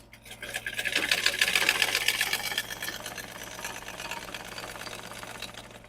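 A sewing machine stitches a bonnet seam with contrasting thread, running in a steady, fast, continuous whir that swells early and then holds level, close up with a low hum beneath.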